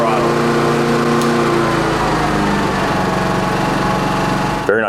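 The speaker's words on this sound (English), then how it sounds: "Now I'm going to turn on the smart throttle." An Atima AY3000i portable inverter generator runs loud and steady nearby, then its engine note eases down to a lower pitch as the smart throttle cuts in. A brief bump sounds near the end.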